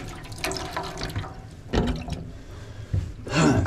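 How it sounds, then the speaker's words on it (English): Water runs from a sink tap inside a 2021 RV, a splashing, hissing flow that swells in bursts and drops back between them, close by with no talk over it. "So the sink works, and then that drains out over here."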